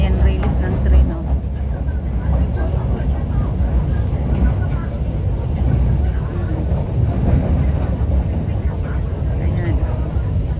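An MTR train pulls out of a station in Hong Kong, a loud continuous low rumble and rolling roar that holds steady throughout, with faint voices mixed in.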